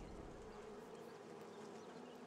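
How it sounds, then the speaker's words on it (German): Bees buzz in a steady, continuous drone in the VR game Crazy Fishing, a dense insect hum with no voices, holding at an even level from start to finish. "Das sind Bienen."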